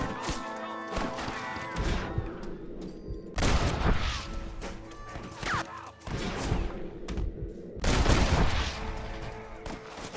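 Repeated gunfire rattles out in the video game Red Dead Redemption, with several heavy bursts of close shots, smashing impacts and ricochets separated by brief lulls, loud throughout and without talk.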